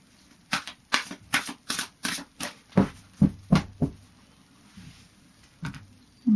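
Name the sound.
shuffling Gateway Oracle cards by Denise Lynn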